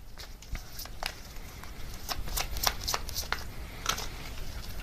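Tarot advice cards are shuffled with soft, quick riffling and tapping bursts at close range, moderately quiet and with no voice.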